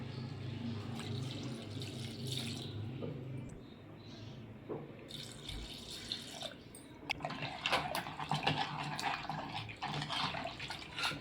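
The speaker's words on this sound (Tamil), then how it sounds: "நம்ம இப்போது தண்ணி ஊற்றிக்கலாம்." Water is poured into mutton kurma simmering in a pan, a soft splashing and trickling stream that grows busier and more bubbly in the second half, quiet and close with no talk.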